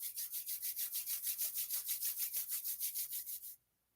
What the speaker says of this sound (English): rub the palms together and cup them gently over the eyes